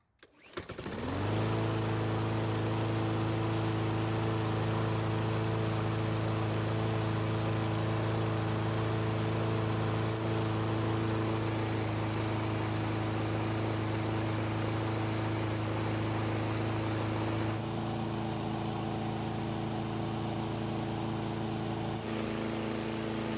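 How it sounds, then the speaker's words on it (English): A Craftsman lawn mower engine idles at a steady reduced speed after starting, a constant droning hum held close and loud for over twenty seconds, with a slight shift in tone near the end. "I'm going to put the engine back down to a reasonable speed."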